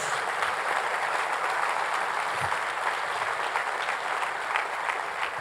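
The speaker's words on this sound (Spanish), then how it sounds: "Aplauda fuerte a Jesús." A church congregation applauds loudly during a sermon, dense sustained clapping that fills the space from start to finish with no speech over it.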